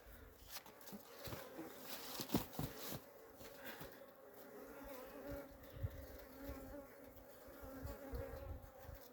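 Honeybees buzz around an open hive where the queen is being shown, a steady close drone with scattered sharp knocks and taps from the hive work, no talking.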